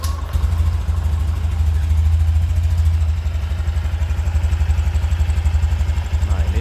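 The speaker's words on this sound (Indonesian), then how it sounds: "Nah, ini suara dari Honda Beat." A Honda Beat scooter idles close by with a steady, even low putter and fine regular engine pulses, unbroken for several seconds.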